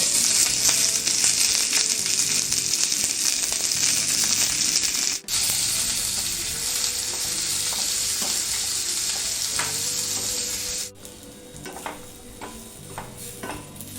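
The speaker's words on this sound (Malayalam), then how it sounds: "രണ്ട് വറ്റൽമുളക് നാല് ചെറിയുള്ളി രണ്ട് വെള്ളുള്ളി കറിവേപ്പില ചേർക്കാം" Dried red chillies, shallots, garlic and curry leaves sizzling in hot oil with mustard seeds for a Kerala erissery tempering, a loud steady frying hiss with stirring scrapes that briefly cuts out and eases off near the end.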